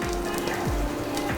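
Onions for masala uttappa sizzle and crackle steadily on a hot pan, a close, even frying hiss with no voices over it.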